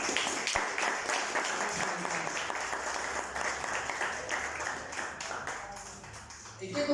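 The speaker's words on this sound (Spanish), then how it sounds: "Démosle un fuerte aplauso" Sustained, loud applause from a church congregation during a sermon, dense clapping that carries steadily for several seconds before tapering slightly at the end.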